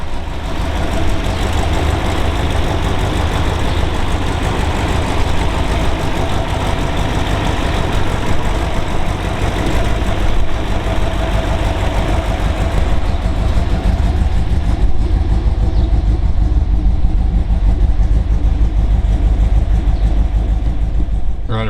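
A 1969 Dodge Charger 500 with a HEMI engine and four-speed fires up and settles into a loud, steady, rumbling idle, heavy low-end throb continuing close by without talk.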